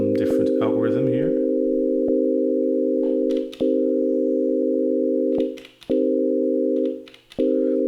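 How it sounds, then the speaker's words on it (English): A steady sine-wave tone from an Elektron Digitone synthesizer drones loud and unbroken, cut by brief clicks and short dips where it retriggers; a voice speaks briefly at the start. "Doesn't matter because it's all still a sine wave"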